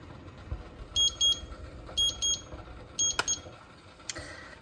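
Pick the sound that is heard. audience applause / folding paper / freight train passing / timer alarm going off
timer alarm going off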